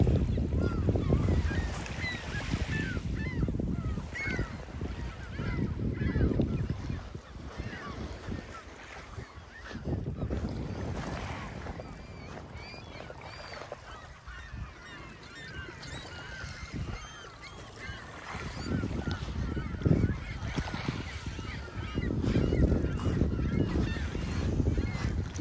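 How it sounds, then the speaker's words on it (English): Seagulls calling in a Canadian park, scattered faint squawks over heavy wind buffeting the microphone throughout. "Got too many seagulls."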